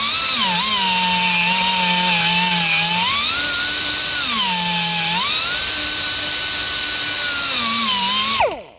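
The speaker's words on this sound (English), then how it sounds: "So now we're drilling it out and Dremeling it out." A die grinder with a carbide bit drills out a truck's ignition lock cylinder, a loud, continuous high-pitched whine that dips and rises in pitch as the bit bites into the metal, then stops abruptly at the end.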